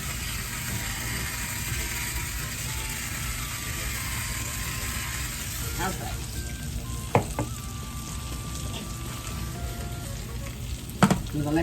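Chicken and zucchini stir fry sizzles and fries steadily in a pan, close and continuous, with a few clinks of utensils toward the end.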